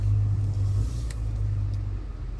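Chery Tiggo 8 SUV reversing in a car park, a steady low engine rumble with a constant drone that holds throughout, close and moderately loud with no talk over it.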